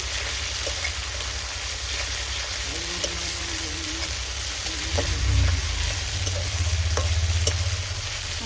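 Cumin and green chilli paste frying in a pan, a continuous close sizzle with occasional stirring clicks, swelling louder near the end as the paste spits in the oil.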